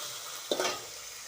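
Garlic dropped into a pan with dried fish (shutki), a drumstick vegetable and tomato, giving a quiet steady sizzle with one brief sharper hiss and stir, no voices.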